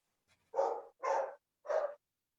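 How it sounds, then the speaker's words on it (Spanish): Three distinct dog barks, evenly spaced and fairly close, heard alone with no talking over them. "El perro de Marina, clarísimo"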